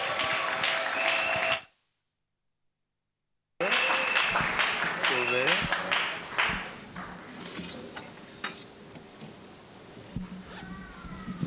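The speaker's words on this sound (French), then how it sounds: "nous l'applaudissons et nous l'accueillons" A church congregation claps and cheers in a lively burst, broken by a short silent gap, with voices and singing mixed into the applause as it fades to scattered clapping.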